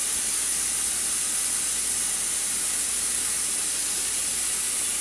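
A hot pot of wort sits in cold water while it cools, giving off a steady, loud, broadband hiss that holds constant without a break.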